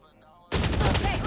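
Rapid automatic gunfire from the video game Valorant bursts in loud and dense after a half-second of quiet, sustained to the end without pause.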